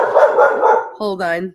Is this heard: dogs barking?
yes